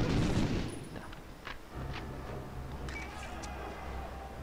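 Gunfire in the video game Medal of Honor: Underground: a burst of loud shots at the start, then scattered fainter cracks and pops over a constant rumbling ambience.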